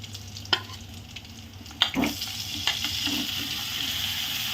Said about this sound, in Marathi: आता हे लसूण भाजलं आहे आपण आता कारले टाकणार आहे